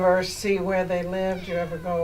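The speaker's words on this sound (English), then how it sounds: "Our kitty's talking over here." A cat meowing in a long, drawn-out, wavering call that rises and falls, close and loud, overlapping a person speaking nearby.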